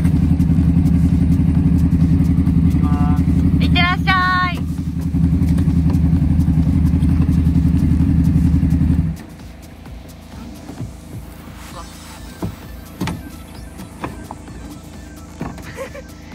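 A loud, steady 600 engine rumble from a sidecar motorcycle runs for several seconds, then cuts off, leaving quieter clatter and scattered knocks.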